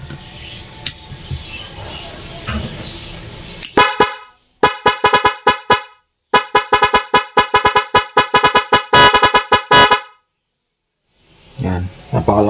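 An NHAY 3+ Pro musical car horn plays in mode 4, loud close melodic toots in rapid rhythmic bursts with short gaps, after a brief spoken stretch and before more talking near the end.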